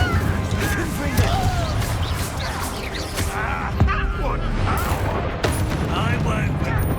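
A Confringo fire spell fires in the Hogwarts Legacy video game, setting off rapid bursts and booming blasts mixed with combat effects and in-game voices, while a player calls out spell names.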